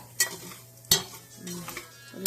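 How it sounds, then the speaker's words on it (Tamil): Mint leaves sautéing in a pan for a chutney, with a few sharp spoon scrapes and knocks against the metal over a low sizzle, alone without talk. "சரி சரி இந்த வதக்கி விடு புதினா"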